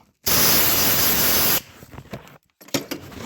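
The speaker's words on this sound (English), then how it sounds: "get an air compressor and just blow out around the spark plug hole" Compressed air from an air compressor blasts around the spark plug hole of a Honda Pioneer 500 side-by-side in one loud, steady hiss of about a second and a half, followed by faint clicks and handling noises.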